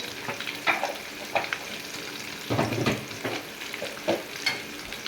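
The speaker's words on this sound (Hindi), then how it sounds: "इनको थोड़ा सा भून लें" Spices frying in hot oil for a potato chicken curry, a steady close sizzle broken by several sharp scraping stirs of a spoon against the pan, with no voices.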